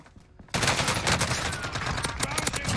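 Dense, rapid gunfire from a Call of Duty Rebirth Island match bursts in after a quiet moment and keeps going loud and continuous to the end.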